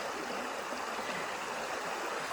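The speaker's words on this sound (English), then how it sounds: "Fantabulous. The sound of the water." Stream water flowing at Dillard Mill in the Ozarks, a steady broadband rush and babble that stays loud and close throughout with no talk.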